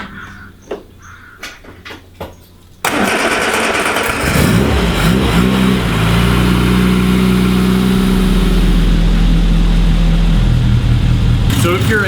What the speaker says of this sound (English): go and fire up the car and get it warmed up